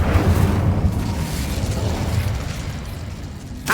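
Incendio fire spell blast in Hogwarts Legacy, a loud, full-bodied roar of flame that starts strong and sustains with a rumbling low end, fading slightly before a brief flare near the end; no talking.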